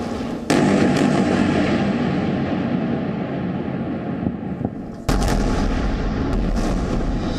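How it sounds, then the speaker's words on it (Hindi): Booming explosions at night in the Israel–Palestine conflict strike at the start and again midway, each leaving a long rumbling, crackling roar that slowly fades. "रात के अंधेरे में धमाके की आवाज"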